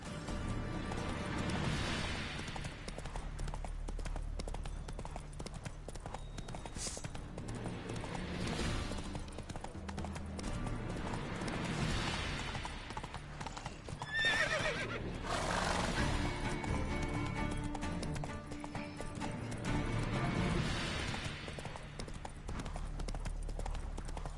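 The horse Roach in a video game, with rhythmic hoof clip-clops of galloping and several neighs and whinnies over game ambience, including a couple of crash-like thuds.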